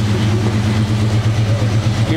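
A 1957 Chevrolet Bel Air convertible engine idles close by, a steady deep rumble with an even, slightly lumpy pulse and no revving.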